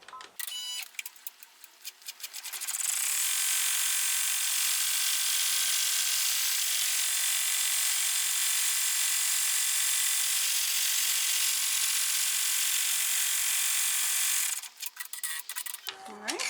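An embroidery machine stitching an outline around a back vinyl piece on an in-the-hoop zipper pouch, a steady rapid whirring hum running unbroken for about twelve seconds after a brief start, stopping cleanly at the end.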